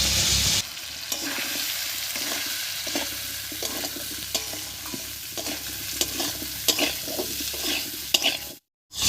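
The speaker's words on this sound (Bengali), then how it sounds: "এই অবস্থায় আলুর সঙ্গে চালটাও একটু ভাজা ভাজা করে নেব" Raw rice and potato pieces tossed together in hot oil for a ghonto, a close, steady sizzle punctuated by regular scraping strokes of a spoon; it cuts off briefly near the end, and no one speaks.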